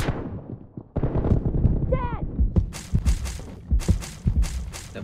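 Rapid gunfire in a PUBG-style team deathmatch shooting game, with sharp repeated shots, bursts and a whizzing effect, close and loud throughout, interspersed with footsteps.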